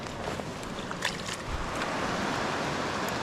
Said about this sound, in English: there's a lot of water moving through here right now